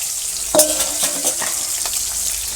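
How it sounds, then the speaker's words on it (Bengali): Bitter gourd fries in a pan with a bright, steady sizzle and a few light scrapes and clicks close by. "এই যে উচ্ছে ভাজি, উচ্ছে ভাজিগুলো দিয়ে দিলাম।"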